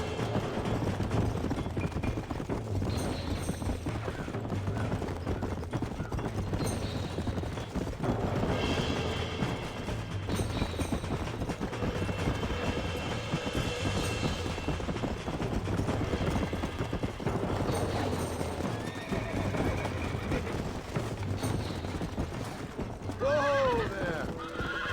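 In the Red Dead Redemption video game, horse hooves clip-clop steadily throughout, mixed with neighs and whinnies, with voices speaking over the riding sounds.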